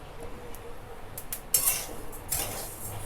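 A spoon stirs roasted fennel seeds in a pan with the heat off, giving a few close metallic scrapes and clinks against the pan and a light dry rustle from the seeds, with no talking.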